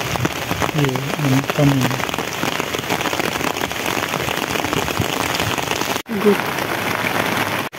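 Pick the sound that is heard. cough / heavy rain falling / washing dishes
heavy rain falling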